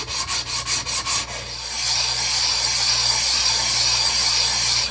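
A sanding disc polishes the edges of a vintage Tecumseh 5.5 hp engine part, starting with a few rhythmic rasping passes and settling into a steady, loud grinding hiss, close up and without voices.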